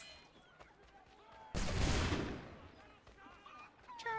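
A loud burst of gunfire from the video game Assassin's Creed III erupts midway and fades over about a second, with faint game sounds and distant voices around it.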